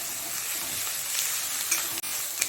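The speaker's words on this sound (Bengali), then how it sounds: "পেঁয়াজটাকে একটুখানি ভেজে নেবো, ততক্ষণ না পেঁয়াজের কালারটা একটু চেঞ্জ হয়ে যাবে।" Onion paste frying in a pan for a spicy Bengali koi fish curry, a steady close sizzle with a few spoon scrapes and knocks against the pan.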